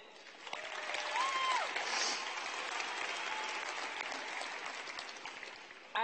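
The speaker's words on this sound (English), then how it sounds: "Let's all give a warm round of applause for a job well done" A large crowd applauds the class of 2018 at Thurgood Marshall High School's graduation ceremony, clapping rising quickly and then sustaining loudly, with a faint whoop or cheer mixed in.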